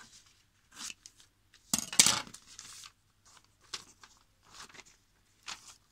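Scissors cut through newspaper for a simple beginner's paper craft: a few short, crisp snips scattered through a quiet room, with one louder, denser burst of cutting near the middle.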